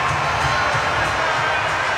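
A stadium crowd at a rugby league World Cup final between Australia and Samoa roars and cheers in a steady, dense wash of noise.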